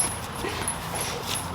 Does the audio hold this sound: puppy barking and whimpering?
yes